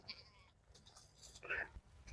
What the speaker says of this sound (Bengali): 30 থেকে 32 লাখ টাকার ছাগল আছে এখানে।